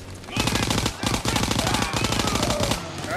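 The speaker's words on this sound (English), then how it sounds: "I need cover fire on the left." Sustained automatic gunfire from a World War II battlefield in the video game Call of Duty: WWII, loud rapid bursts rattling almost continuously with brief gaps, filling the whole stretch.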